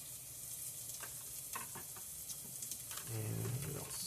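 Vegetables frying in a pan give a steady, close sizzle throughout, with a few brief stirring clatters and a slightly louder hiss near the end.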